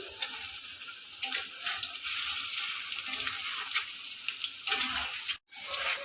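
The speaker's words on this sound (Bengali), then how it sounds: "এরকমভাবে কিন্তু পকোড়াগুলো ভাজতে হবে" Chicken pakoras sizzle in hot oil for restaurant-style frying, a steady crackling hiss with small bursts as pieces are turned, close and fairly loud, pausing briefly near the end.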